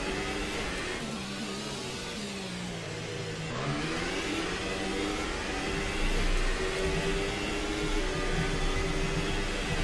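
Race car engine in a racing game, a steady mid-pitched hum and whir that rises in pitch as the car accelerates out onto the Monaco circuit, continuous and fairly close.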